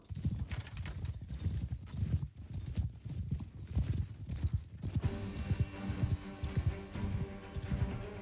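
Horse archers galloping in a strategy video game: a dense, steady drum of hoofbeats and clip-clops runs throughout, with occasional whinnies and a layered battle-game soundscape in the later part.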